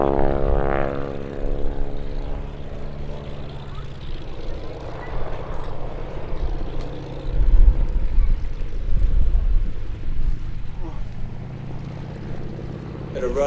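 A Stearman biplane's propeller engine drones overhead at a UK airshow during a wing-walking display, rising and falling as it passes, with a commentator talking over the noise.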